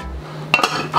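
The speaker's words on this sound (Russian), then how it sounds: "Сразу накрываем стерилизованными крышками" Sterilized metal lids are set onto glass jars of raspberry compote, giving a couple of sharp close clinks and a clatter over a steady background hum.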